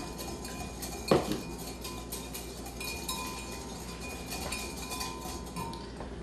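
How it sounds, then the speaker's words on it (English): Ingredients are stirred in a measuring cup. One sharp clink of a utensil against the cup comes early, then faint, quiet scraping and tapping runs under a steady background hum. "So I'm going to add that and we'll kind of stir it in"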